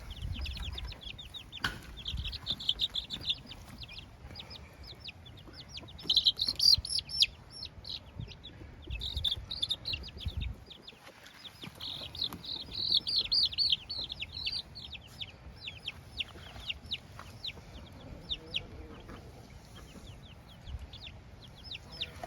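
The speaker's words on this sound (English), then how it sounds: "There's a hen right there, about to release some chicks in here with her." A hen clucks repeatedly among young chicks that chirp in high, rapid peeps throughout, close by in an outdoor off-grid yard, with occasional louder bursts and a brief quiet stretch midway.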